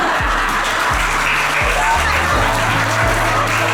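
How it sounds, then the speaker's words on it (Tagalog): Guests clapping at a 50th wedding anniversary party, a steady broad wash of applause running throughout, with a low hum and periodic thumps from the room underneath. "Konting palakpak."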